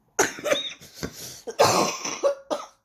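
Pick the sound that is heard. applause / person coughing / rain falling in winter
person coughing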